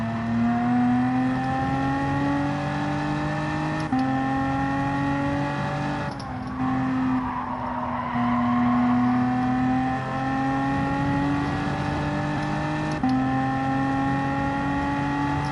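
Race cars drive in Gran Turismo 7, a loud, steady engine whine rising through the revs, dropping sharply at each gear shift and climbing again, with tyre and wind noise underneath and no talking.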